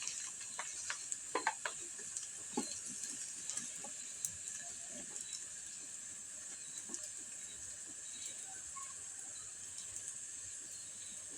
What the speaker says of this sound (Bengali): দেখেন, আস্তে আস্তে আবার নেড়ে চেড়ে দিচ্ছে।